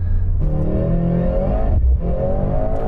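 A Mercedes-AMG C63 accelerates hard with a steady, rising electric motor whir and hum, loud and close, easing briefly near the end before pulling again.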